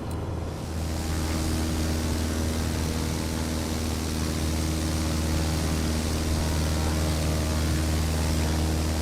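Just Flight Arrow light propeller aircraft in Microsoft Flight Simulator, its landing gear extending under a steady loud engine drone and propeller hum, with a brief mechanical shift near the start and no voices.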